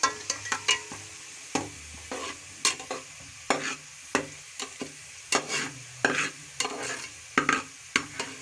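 Onions turning golden brown while frying in oil, with a steady sizzle broken by repeated sharp stirring scrapes of a utensil in the pan.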